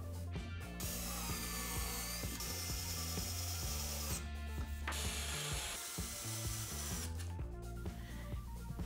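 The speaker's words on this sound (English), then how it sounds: "here I drill a hole for this screw that will allow me to align the saw's table" A drill bores a hole into a wooden part for a homemade band saw, its motor whining in close, steady bursts that stop and restart several times, with mechanical rattling between runs.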